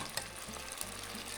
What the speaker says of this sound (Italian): aumentiamo la fiamma. Sì. Sta cominciando a sfrigolare.